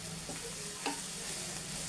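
A paste of curd and Radhuni roast masala spice fries in a pan with a low, continuous sizzle and a few small pops, heard close with no voices.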